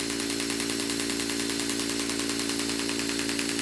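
Rapid, steady mechanical buzzing of a PSP percussive massage gun running at a fast speed, continuous and close with no pauses.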